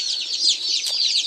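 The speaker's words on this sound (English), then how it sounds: "I have 10 speckled Sussex pullets of the girls, 10 Easter egg chickens, the Americanas, and 10 golden lace Wyandottes." A brood of newly brought home chicks (Speckled Sussex, Easter Egger and Golden Laced Wyandotte) peep continuously. Many shrill, overlapping cheeps come from close by.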